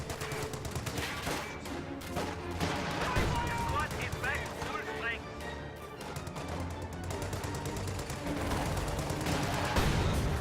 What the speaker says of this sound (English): Whoa, that Panzerschreck snipe. 2 riflemen in 1 shot.